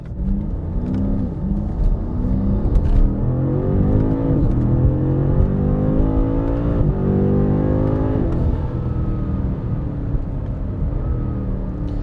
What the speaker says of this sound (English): It's got some exhaust burbles. Man, this exhaust really did wake this car up.